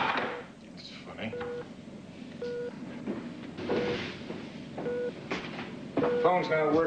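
A telephone's short tonal dialing beeps come in several separate bursts aboard a ship, with people talking between and over them.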